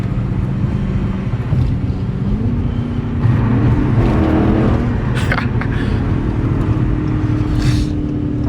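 A Dodge Challenger SRT 392 drives on a highway with a steady, loud engine drone and road roar, the tone lifting partway through as it pulls harder, with brief whooshes of passing traffic.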